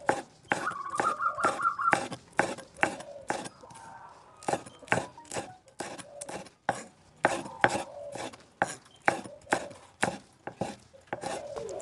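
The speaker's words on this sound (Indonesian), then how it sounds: "Potong cabai merahnya sama ya teman-teman, potong-potong" A knife chops red chili peppers on a cutting board for egg cooking, giving a steady run of sharp, close knocks at a brisk, fairly even rhythm with brief pauses and no talk.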